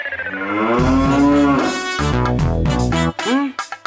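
A cartoon buffalo lets out a loud, drawn-out moo with a wavering pitch that rises and falls, followed by a few short grunting calls, alone in the foreground.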